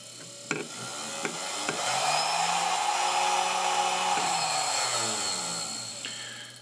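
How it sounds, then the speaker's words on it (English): A flexible shaft machine motor clicks on and spins up to a steady whirring hum, accompanied by a few sharp knocks and ticks as the unit jumps and twists slightly on startup, then gradually winds back down. "when you start your flex shaft, you're going to notice that the unit's going to jump or twist just a little bit"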